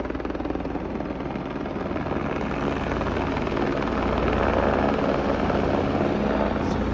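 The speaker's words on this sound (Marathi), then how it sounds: "आम्ही थांबलो तिकडे वारी हेलिकॉप्टर उतरला खाली" A helicopter landing at the Kedarnath helipad, its rotor and engine roaring steadily and loudly up close for the whole stretch, with no voices over it.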